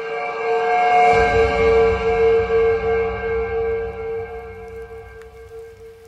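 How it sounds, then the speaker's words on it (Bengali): A train whistle blows as the train pulls out of the station: a long, steady, loud tone over a low rolling rumble that slowly fades. "একটানা হুইসেলের শব্দ যেন এই শ্রাবণের ভেজা বাতাসে বিলীন হয়ে গেল ধীরে ধীরে"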